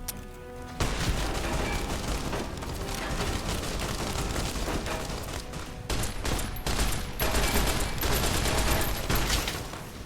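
Loud, continuous gunfire in Fallout: New Vegas, rapid overlapping shots and bursts filling the whole stretch, with a short break midway before the firing resumes.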